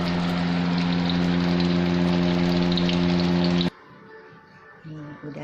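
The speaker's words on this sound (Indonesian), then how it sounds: "Maaf ya berisik, soalnya saya pasang exhaust di dapur" A steady, loud mechanical hum from a running kitchen exhaust fan fills most of the clip, then cuts off abruptly, leaving quieter room sounds.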